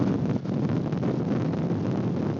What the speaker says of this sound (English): I'll walk right to the edge and instantly, wow, that wind is super strong